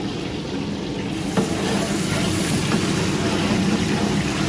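Chopped onion fries in melted butter in a large catering pot while being stirred, a steady broad sizzle with a few faint utensil knocks, moderately close and continuous with no talking.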